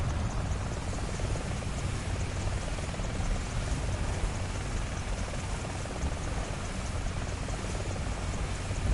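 Apache helicopter, a steady loud rotor and turbine roar that stays constant and close throughout, with no talking.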